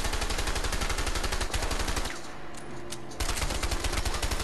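Rapid automatic gunfire in the video game A Way Out, a dense, loud stream of shots that pauses briefly midway before resuming at full intensity.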